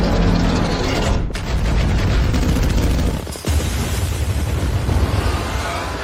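Artillery bombardment against attacking beasts in a fantasy war drama: loud, continuous rumbling blasts and booms, with a sharp break and a fresh deep impact partway through.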